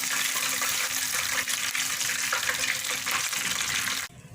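Chicken fries in hot oil with a dense, steady sizzle and crackle that stays loud and even throughout, then cuts off sharply near the end.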